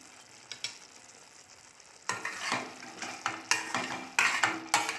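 Poori masala being stirred with fresh coriander leaves in a pan, soft scraping at first, then louder repeated spoon-against-pan strokes with a faint sizzle, close and without talk.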